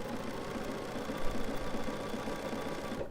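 A Bernina 780 sewing machine stitching steadily, a close, continuous mechanical hum with a fast even needle rhythm running the whole time without a break.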